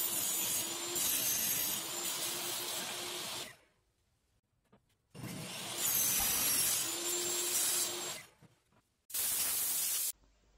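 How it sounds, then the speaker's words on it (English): Aluminium profiles for a Makita MLT100 table saw fence being cut to length, three separate bursts of harsh sawing noise separated by near-silence, close up with no talk. "I first started by cutting both the profiles to the required length."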